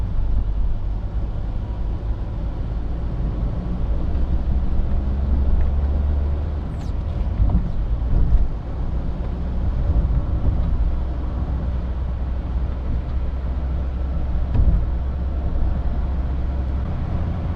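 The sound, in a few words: car driving in city traffic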